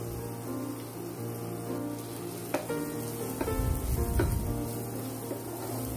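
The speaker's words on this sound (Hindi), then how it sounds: "मटर को फ्रेंड्स ऑयल में भूनना बहुत ज़रूरी है" Peas fry in oil with a continuous close sizzle, joined by a few sharp clinks and louder stirring scrapes near the end, with no talking.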